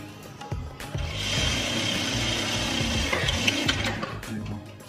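Sewing machine stitching along the folded edge of a trouser pocket, a steady mechanical whir of running stitches at close range with brief pauses, no voices.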